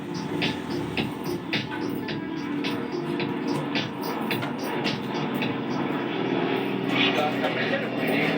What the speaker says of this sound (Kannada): we present to you the Goni bird, savior of Kashmir, the one and only Dakota.